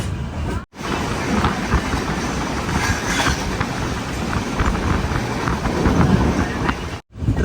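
A car-carrier freight train loaded with new cars rolls into Thivim railway station on the Konkan Railway, its wagons rumbling past close by with rhythmic clickety-clack and some wind buffeting.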